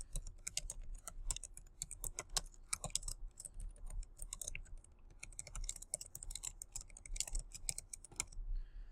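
Someone types an article title on a computer keyboard, a quick, uneven run of close key clicks in bursts with brief pauses, quiet and without talk.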